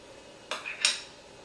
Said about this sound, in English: a teaspoon into the bottom of each tartlet. About a teaspoon there, and we're going to just plop it in.